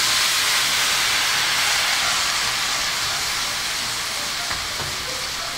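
Steady loud sizzling and hiss from a hot pan as sesame oil and chicken broth go in while cooking seafood pancit canton, continuous throughout with a faint clink near the end.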